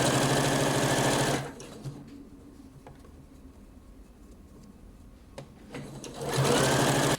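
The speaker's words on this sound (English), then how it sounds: "just fold it over and sew" A sewing machine stitches a flutter sleeve in two loud, close runs of fast rhythmic whirring, separated by a quiet stretch of faint handling noises.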